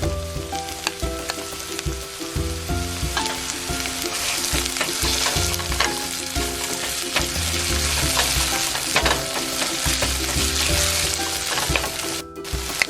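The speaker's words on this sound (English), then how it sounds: "So we're just going to saute our garlic nicely." Garlic, onion and shrimp paste sautéing in a pan, a dense continuous sizzle with frequent stirring scrapes and clinks, close and loud throughout.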